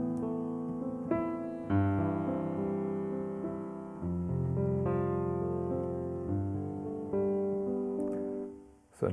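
Piano chord progression in 4/4 built on sus2 and add9 voicings, sustained chords changing every bar or so, full and ringing with a steady, unhurried pulse and no voices.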